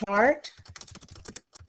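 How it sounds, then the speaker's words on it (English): Typing on a computer keyboard while entering a description into a spreadsheet chart, a run of quick, irregular key clicks that follows a short spoken word and continues at a close, moderate level. "we are going to type in the description that it's going to say"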